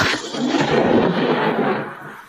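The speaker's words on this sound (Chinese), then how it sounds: "怎么凭空打雷，" A deep rolling rumble of thunder swells and fades over a couple of seconds, loud and close, with no one speaking.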